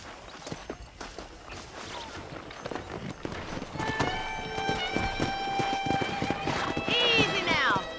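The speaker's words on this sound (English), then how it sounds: "there's a pack of wild horses nearby" A pack of wild horses gallops in Red Dead Redemption, hooves clattering in a quick rhythm, then musical tones swell over them as a horse whinnies near the end.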